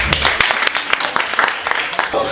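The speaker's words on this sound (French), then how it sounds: "applaudissez vous-même" Sparse, uneven clapping from a small audience at a French-language one-man comedy show, a scattering of sharp individual claps over a couple of seconds, close and fairly loud.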